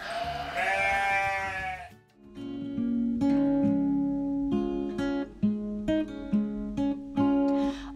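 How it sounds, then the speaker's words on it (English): A sheep bleats loudly and close for about two seconds, then a cheerful farm-themed tune with bright, plinking notes plays on for several seconds. "a sheep."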